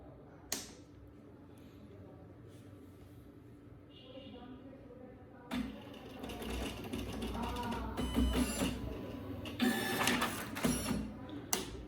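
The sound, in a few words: Epson PLQ-30 passbook printer printing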